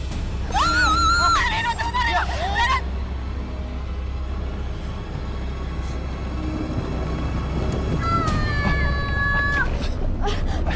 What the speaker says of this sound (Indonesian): Sri, kayak ada suara cewek yang teriak sih.